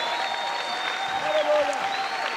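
A church congregation claps for the pastor in a short burst of dense applause, with a voice carrying over the clapping.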